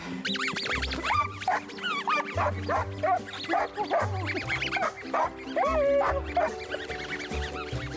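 Search dog barking excitedly in rapid, repeated yelps and woofs, wound up by a squeaky toy during training, loud and close with a low musical backing underneath.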